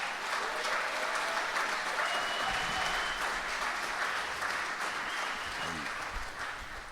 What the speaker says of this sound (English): Please give a round of applause for Mr. Harry Glasson.